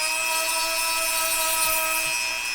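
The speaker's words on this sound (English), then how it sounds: "I'm just slowly grinding down the pads until they slide in there freely." An electric grinder runs steadily with a high whine as the edges of car brake pads are ground down, a continuous close drone with faint rubbing contact underneath and no talk.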